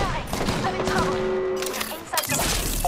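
Frag grenades and gunfire in an Apex Legends battle on the Broken Moon map, a dense rattle of rapid shots with thumping impacts and a short lull before firing resumes, close and loud.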